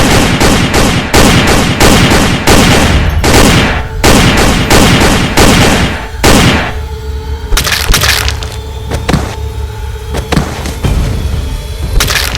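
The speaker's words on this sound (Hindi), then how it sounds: "गाड़ी से उतरते ही सिक्योरिटी गार्ड पर गोली चलाने लगता है।" Cartoon gunfire as police shoot at a security guard, loud rapid volleys of sharp cracking shots in dense bursts, thinning into scattered single blasts with brief gaps between them.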